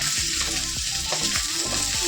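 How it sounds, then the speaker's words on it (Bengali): Steady, loud sizzling of sarputi fish frying in hot oil, with occasional scraping stirs against the pan. "মাছটা ভাজা হয়ে গেল"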